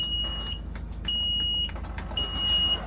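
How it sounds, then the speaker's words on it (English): A bus's low air pressure warning sounds as its air tanks run out of pressure: three long, piercing high-pitched beeps with pauses between, over a low engine rumble. "Sorry for the loud bleeping, that is the air tanks saying they're out of pressure."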